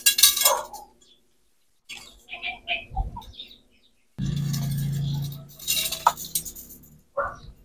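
Stainless spoke nipples being fitted onto a budget bicycle hub: a few short metallic clinks and light taps in separate bursts, with quiet gaps between them and a brief steadier rattle in the middle.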